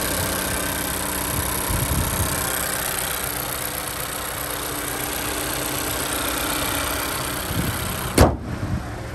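A 2018 Honda Civic EX-T engine idles steadily with the hood open, a close, even mid-range hum running throughout, broken near the end by a brief sharp clunk.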